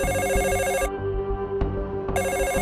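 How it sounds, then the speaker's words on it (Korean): Electronic telephone ringing in repeated bursts with a short pause between rings, loud and close, no voices. "드디어 포장마차로 범인의 전화가 걸려옵니다."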